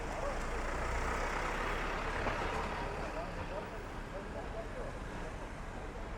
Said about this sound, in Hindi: दिखाता हूँ, अभी ट्रक चला जाए।